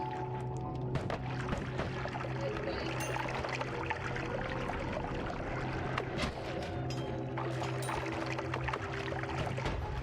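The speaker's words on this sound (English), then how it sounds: "we're draining the water" Water draining away in the pixel-physics video game Noita, a steady continuous pouring and trickling wash that runs throughout with no break, fairly loud and dense.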